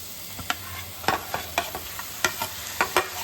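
Mutton frying in a pan with chili powder, turmeric and salt, a soft steady sizzle broken by about a dozen sharp scraping stirs spaced irregularly, close by with no talk.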